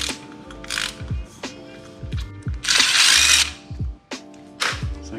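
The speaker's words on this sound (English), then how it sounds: "we're gonna go ahead and remove this bolt right here before we tidy up the backside" A power tool works on a bolt on a 2022 Yamaha FZ-07/MT-07 motorcycle frame during a crash cage install, with short repeated mechanical bursts, whirring and ratcheting, and one longer, louder rattling burst in the middle.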